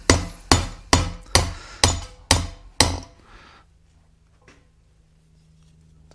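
Metal hammer blows on a king pin of a 1975 Ford 550 truck, seven sharp, evenly spaced ringing strikes, close and loud, then quiet.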